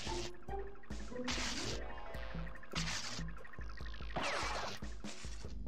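Gooey splashes and drips as a character falls into toxic slime in the 1996 PS1 game Crash Bandicoot, a series of wet squelching hits with sharp bursts spread over several seconds, no talk.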